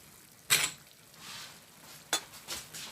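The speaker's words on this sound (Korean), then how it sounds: "여러분들 면 삶은 거 넣어주세요" Boiled pasta noodles drop into a vongole clam pan and get stirred, giving a couple of sharp clattering scrapes and soft sizzling swishes at close range.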